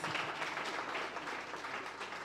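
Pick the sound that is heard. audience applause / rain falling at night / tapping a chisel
audience applause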